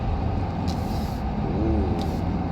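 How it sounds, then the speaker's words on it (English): A truck approaches on the road with a low, steady rumble, and short hissing bursts like air brakes sound twice over the traffic noise. "this is truck coming"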